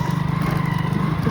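A motorbike rides along a village road at night, its engine giving a steady, continuous low drone close by with no talk over it.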